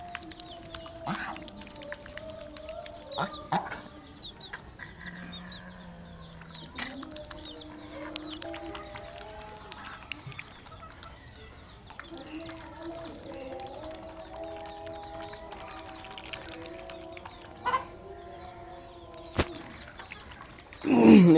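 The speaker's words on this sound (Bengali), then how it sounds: "এই মুরগিগুলোর নাম হচ্ছে ফাউমি মুরগি" Fayoumi chickens on a farm give scattered clucks and calls through a steady low background, with a louder squawk at the very end.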